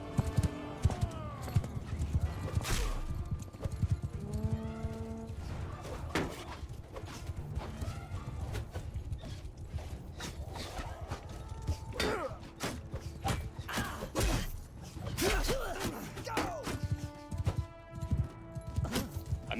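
Horse hooves in the video game Mount & Blade 2: Bannerlord, irregular clip-clop thuds amid battle clatter and scattered game effects, with someone talking over parts of it.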